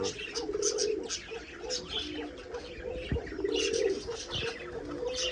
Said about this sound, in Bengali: এই যে আমার ঘুঘু পাখি আর কবুতর একসাথে ডিম পেড়া বই থাকে এক জায়গায়